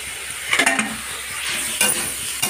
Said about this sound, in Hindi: और इधर सब्जी हम भूंज रहे हैं